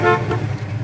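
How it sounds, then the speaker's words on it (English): A short, loud horn honk from a 1970 Chevelle, a single close toot lasting under a second. "Horn works"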